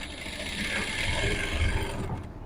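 A sewing machine stitches the sleeve seam of a large dress from edge to edge, giving a steady, close mechanical whir and rapid ratcheting rattle that runs without a break, with no talking over it.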